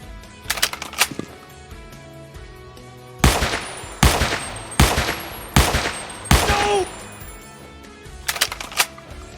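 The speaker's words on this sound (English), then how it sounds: "you guys can count the shots and how much it does in order to kill a player" Gunfire from a weapon in the Roblox game Redwood Prison Reworked: a few quick clicks, then five loud, sharp shots at an even, steady pace, with a final flurry of lighter clicks.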